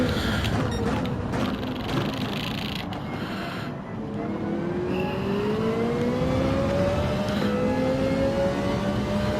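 A Ferrari race car engine in Gran Turismo during an online Manufacturers Cup race howls under acceleration, its pitch climbing steadily through the gears, loud and continuous with other cars droning around it.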